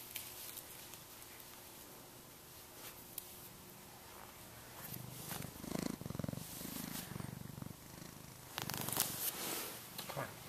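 A house cat purrs softly and steadily at close range, a low continuous rumble that swells a little louder near the end.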